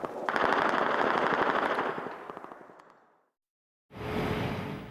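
Sustained machine gun fire at night on a military front line rattles in a long, dense burst that tails off, followed after a short silence by another burst starting.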